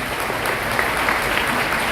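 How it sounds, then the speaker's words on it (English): Dense, steady applause from a forum audience honoring a Paris Olympic épée gold medalist, a continuous close wash of clapping with no talk. "Can we have a round of applause for her?"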